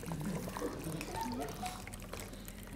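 Ganga water poured out for a puja during a water-column demonstration: a soft, steady trickle and splash running throughout, close by and fairly quiet.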